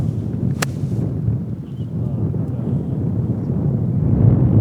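Wind buffets the microphone on an outdoor golf course, a steady low roar that swells slightly toward the end, with no one speaking.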